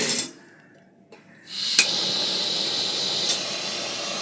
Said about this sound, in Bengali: এবারে আমি এই গ্যাসটাকে ধরিয়ে দিচ্ছি